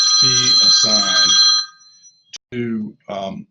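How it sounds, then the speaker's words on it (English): A telephone rings repeatedly in a lecture room, loud and shrill, over someone speaking, then stops as he carries on talking. "I apologize for the phone."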